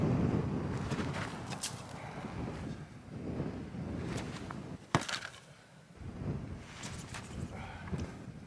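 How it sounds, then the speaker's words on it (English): Wind blowing outdoors during a primitive hunting session with throwing sticks, a steady, broad rush that swells and fades in gusts throughout, with a brief sharp knock in the middle and no talking. "little bit of wind."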